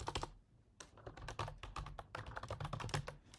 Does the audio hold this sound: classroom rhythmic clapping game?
no